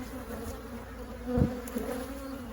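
Angry honeybees buzz around an open single brood chamber hive, a continuous close droning hum with one louder pass near the middle, faint and unaccompanied by talk.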